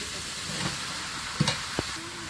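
Chopped vegetables stirred in a hot pan on a village kitchen stove, a constant sizzling hiss with a few short scraping knocks of the spatula partway through.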